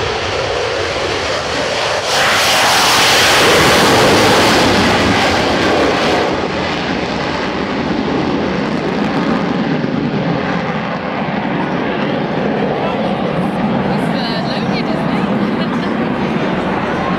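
A loud, sustained aircraft engine roar fills an airshow, swelling early then holding as a broad, steady drone close by.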